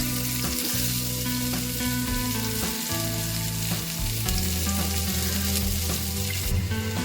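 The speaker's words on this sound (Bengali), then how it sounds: "পেঁয়াজ কুচোটাকে আমি একটু ভালো করে একটু ভেজে নেব" Chopped onions fry in hot oil over a tempering of bay leaf, dried chilli and cumin, giving a strong, constant close-up sizzle with steady background music underneath.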